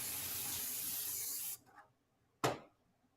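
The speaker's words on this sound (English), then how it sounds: "You're going to spray that really well." Cooking spray hisses into a baking pan in one long steady spray lasting about a second and a half, followed by a short soft rub and then a second brief burst, close and fairly quiet.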